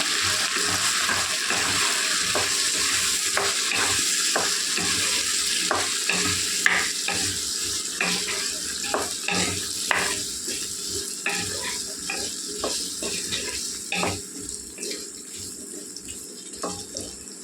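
Potatoes frying in oil with salt and turmeric, a spatula scraping and stirring through them in uneven strokes over a loud, constant sizzle; close up, no voices.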